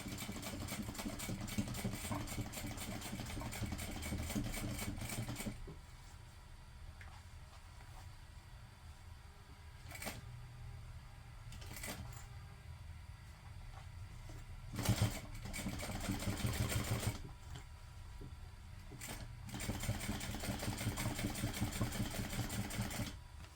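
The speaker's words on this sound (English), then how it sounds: "So I will just do my top stitching very slow" Sewing machine top stitching a tote bag runs slowly in long steady bursts of rapid mechanical clatter, stopping and restarting several times, with quiet pauses between runs.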